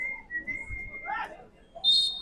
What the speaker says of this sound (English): And there is the full-time whistle.